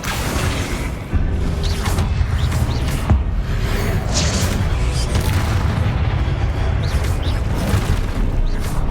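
Booming spell blasts from Confringo in the Hogwarts Legacy video game, a loud continuous battle din with repeated heavy thuds and swooshes throughout, no voices heard.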